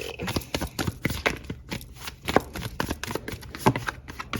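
Tarot cards are shuffled close up, a quick uneven series of riffling slaps and flicks continuing throughout with no talking.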